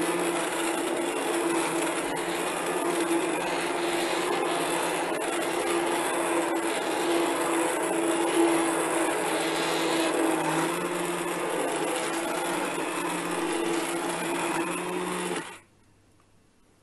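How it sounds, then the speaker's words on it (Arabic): A hand blender whirs continuously through carrot cake batter with a steady, gritty motor hum close to the mic, running unbroken for about fifteen seconds before cutting off abruptly. "واحنا هنا كده ضربناه بالهاند بلندر كويس جدا"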